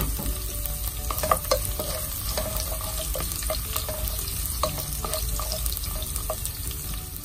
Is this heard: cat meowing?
no